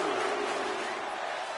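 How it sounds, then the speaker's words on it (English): A wrestling crowd at an independent show roars in a dense, loud, continuous wash of voices, the chant blurred into steady noise. "Like the crowd is saying, this is awesome."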